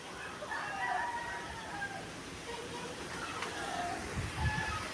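A rooster crows faintly at a distance, a few drawn-out calls rising over a quiet outdoor background with soft rustling and low noise.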